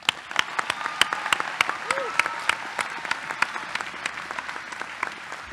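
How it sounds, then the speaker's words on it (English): Graduation ceremony crowd applauding, dense steady clapping with a few louder near claps, and voices mixed in beneath it. "Please give him another round of applause."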